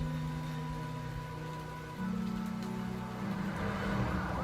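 Rain falling in a Batman video game scene with a helicopter overhead: a continuous hiss of rain over a low, steady mechanical drone, unbroken for the whole stretch.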